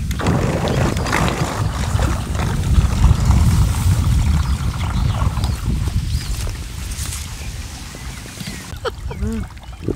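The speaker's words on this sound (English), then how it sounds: "Oh, I'm rowing." Oars splash and slosh steadily as an inflatable dinghy full of punctures is rowed along a disused, weedy canal, close water churning with wind buffeting the microphone and faint voices in the background.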